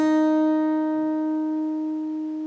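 A single pluck of the open second string on an acoustic guitar rings clear and sustained, slowly decaying while heard alone and close.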